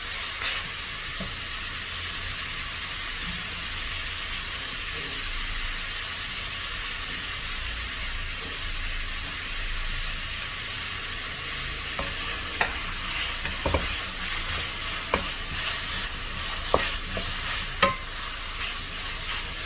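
Cumin seeds sizzle steadily in a hot pan, a constant bright frying hiss close up, with scattered clicks and scrapes of stirring in the later part.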